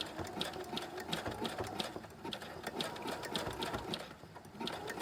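Home sewing machine running a wide zigzag stitch through two layers of fabric for ruffles, a fairly quiet continuous buzz with rapid regular needle ticks throughout.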